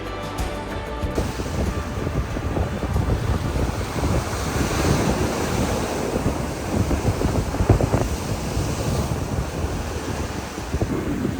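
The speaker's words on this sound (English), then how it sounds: "At low tide, the sound of the receding waves over the beach pebbles create an interesting sound." Receding waves wash over beach pebbles at low tide on the wild west coast near Tofino and Ucluelet, a loud continuous surf rush and rattle mixed with wind buffeting the microphone, with no voices.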